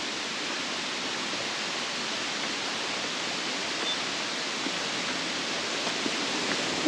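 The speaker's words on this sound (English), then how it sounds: "we'll take you to the waterfall." A waterfall on the Thorsbone Trail gives a constant broadband roar, an even, hissing wash of falling water that holds steady from start to finish with no voices.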